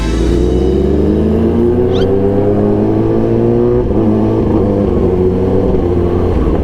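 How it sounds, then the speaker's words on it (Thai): A loud motorcycle exhaust on a group road ride rumbles and revs close by, rising in pitch as the engine accelerates through gears, with no talk over it. "เสียงท่อพวกเรามันดังซะเหลือเกินนะ"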